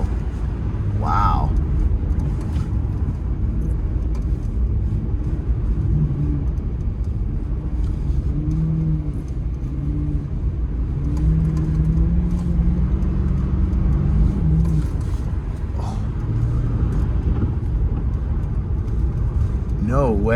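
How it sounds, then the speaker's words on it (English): A Chevrolet Corvette C8 on Michelin Alpine winter tires climbs a big snowy hill in a Canadian winter, giving a steady low engine rumble from inside the cabin while people talk over it. "never in my wildest dreams did I think that I would be going up a big hill like this in my Corvette"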